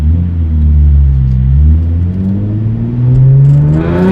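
A Hyundai Genesis Coupe 3.8 R-Spec with modifications accelerating hard, its engine note rising steadily and loud from inside the car, easing briefly before pulling up again.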